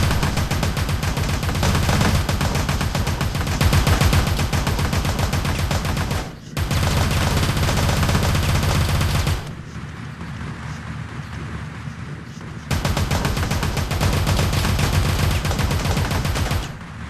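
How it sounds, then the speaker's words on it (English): Rapid bursts of gunfire from enemies in the top-down shooter game Teleglitch, loud and dense, running in long sustained volleys with a brief drop to quieter ambience midway before the shooting resumes. "They'll even shoot at each other on occasion."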